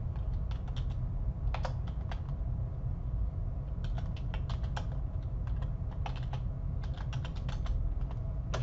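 Computer keyboard typing in a quiet room, irregular bursts of soft clicking keystrokes, close and fairly faint, with short pauses between runs of keys over a low steady hum.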